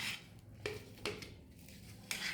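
A spoon works stiff, cold butter with garlic, chili flakes, oregano and coriander leaves in a bowl, giving a few faint clinks and soft scraping squishes in a quiet kitchen.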